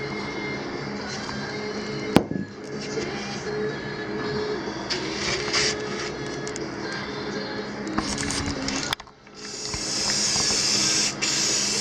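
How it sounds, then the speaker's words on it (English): A spray gun hisses steadily while painting the faces of a set of lanterns, a continuous loud airy spray with brief pauses and clicks, ending in a brighter sustained hiss. "if you line it all up and give it a good spray, you'll just have a lot less"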